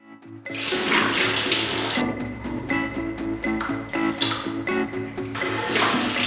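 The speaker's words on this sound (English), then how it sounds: "I'm gonna wash my face." Water runs steadily from a tap into a sink during face washing, a continuous close hiss with splashing and a few small knocks and rattles along the way.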